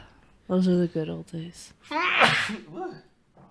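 A person sneezes once, loud and close with a sharp breathy burst, shortly after someone speaks a short sentence.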